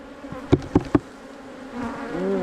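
Close buzzing of bees droning steadily during a December bee yard hive inspection, with three sharp taps early on and the hum rising toward the end.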